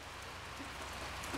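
Rain falls steadily outdoors near a sawmill as a soft, even patter with a few faint drips standing out, quiet and continuous, with no one talking.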